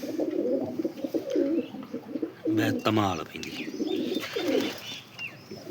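Soft pigeon coos rumble low beneath someone speaking, with a brief flutter of wings partway through.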